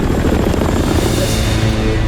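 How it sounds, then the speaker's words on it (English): Helicopter rotor noise in a movie scene, a loud, steady close thumping drone with no talk. "It's a helicopter."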